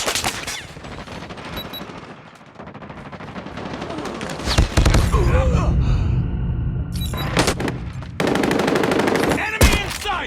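Rapid automatic gunfire from a sentry gun and machine guns in the Call of Duty Mobile video game, loud and sustained in bursts with sharp cracks, mixed with game effects and radio-style voice lines.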